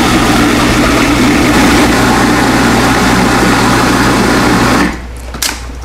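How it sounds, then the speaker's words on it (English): Cuisinart food processor blending strawberry sorbet, a loud steady motor whir with a low hum that runs continuously for nearly five seconds, then cuts off, leaving a few faint clicks. "we're going to close the machine and turn it on, and this is going to be a little noisy."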